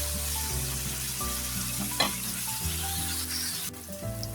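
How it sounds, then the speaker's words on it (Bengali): Sliced onions fry steadily in hot oil in a pan while being browned, a dense close sizzle with occasional stirring scrapes and no voices. "পেঁয়াজগুলি কিন্তু আমি ভালো করে ব্রাউন করে ভেজে নেব।"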